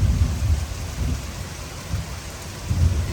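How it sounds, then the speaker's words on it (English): Early-morning rain falls steadily in Georgia while low thunder rumbles and rolls in the distance, swelling at the start and again near the end, with no voices. "Lightning a flash, thunder roll."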